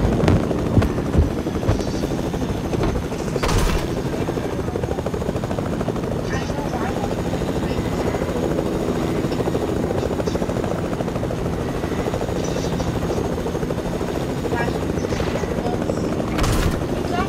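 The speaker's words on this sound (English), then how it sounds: "let's get into the helicopter" A helicopter in the Fortnite video game drones steadily throughout at close range, a loud continuous rotor thrum with a few brief sharper bursts.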